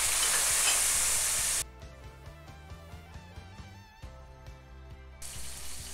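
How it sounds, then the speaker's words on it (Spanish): Marinated chicken goes into hot sunflower oil in a wok with a loud hissing sizzle. It settles into a quieter crackle with rhythmic tapping as it is stirred, and the sizzle swells again at the end. "Agrego el aceite de girasol y el primer paso, vamos a agregar este pollo que tengo marinado aquí."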